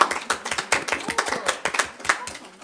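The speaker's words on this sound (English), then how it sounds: "they deserve a little round of applause from us all" A small group claps at a council meeting, a short burst of close, uneven hand claps lasting a few seconds.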